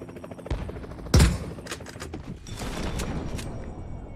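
Gunfire in the battle-royale game PUBG, a sharp loud shot burst standing out over a busy game soundscape, followed by scattered distant shots and rattling fire.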